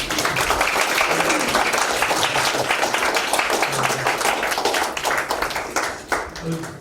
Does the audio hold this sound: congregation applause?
yes